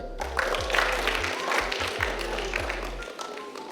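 A school debate audience clapping steadily, with scattered voices underneath and a low rhythmic thumping running through it.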